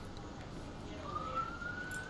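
A police car siren wails faintly in the distance, a thin rising tone emerging midway and holding over a low background hum.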